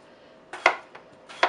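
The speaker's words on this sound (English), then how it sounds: "You're going to slice right down the middle" A kitchen knife cutting through red skin potatoes on a cutting board, two crisp close slicing thunks with a faint tap between them, no talking.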